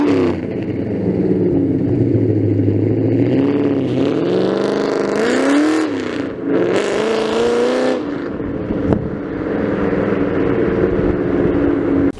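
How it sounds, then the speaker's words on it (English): Modified New Edge Ford Mustang making about 320 horsepower, its exhaust droning at idle and then revving up and down in a few loud, rising blips before settling back to a steady rumble. "Let's give you a little exhaust note now."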